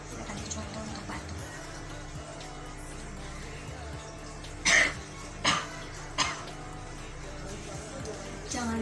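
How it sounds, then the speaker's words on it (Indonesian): Three short coughs into a tissue, given as a demonstration of cough etiquette, the first the strongest and the others quickly following, set against a faint room hum. "Saya kasih contoh untuk batuk."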